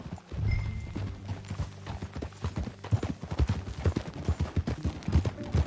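Horse hooves clip-clop steadily at a ride in Red Dead Redemption 2, a rhythmic run of close, clear hoof strikes over a low background hum, with a brief whinny-like tone early on.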